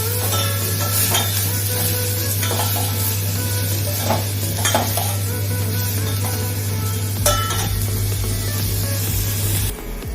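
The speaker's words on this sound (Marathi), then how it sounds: "कढीपत्ता घालायचा आहे आणि मग चिरलेला कांदा। हे सगळं छान परतून घ्यायचे।" Curry leaves and chopped onion sauté in a pan for a Maharashtrian val bean curry, giving a loud continuous sizzle with occasional scrapes and clinks of a spoon. A low steady hum runs underneath, and no one speaks.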